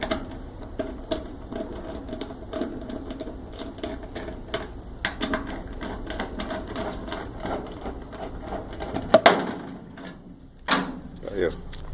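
Screws being taken out of a washing machine's electric drain pump during a repair, heard as a steady run of small metallic clicks, taps and rattles close by, with someone talking throughout.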